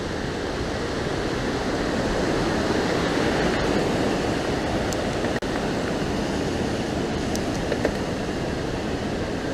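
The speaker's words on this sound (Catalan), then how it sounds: "Baixa aigua a tot drap." The Segre river rushes through its gorges in a loud, steady, broadband roar of churning water, constant and close, with a couple of faint clicks on top.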